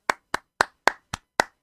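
Seven slow, evenly spaced hand claps ring out one by one on a podcast, sharp and close with silence between each clap.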